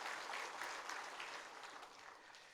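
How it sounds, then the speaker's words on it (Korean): A church congregation applauding in thanks during a worship service, a steady wash of clapping from many hands, fairly faint and slowly fading. "올해도 여기까지 인도하신 우리 하나님께 감사 박수 우리 드리겠습니다"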